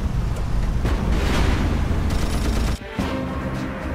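A tank blowing up in Battlefield 1942, with loud continuous rumbling blasts and gunfire throughout that suddenly cut off near the end, followed by a quieter, steadier roar.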